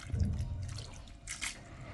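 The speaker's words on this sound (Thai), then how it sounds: "ขั้นตอนต่อไปค่ะแอดมินเทน้ำปลาลงไปค่ะ" Fish sauce pours over small pickled rice-field crabs, giving a brief wet splashing and trickling sound with a gurgling burst near the end, close and moderately loud.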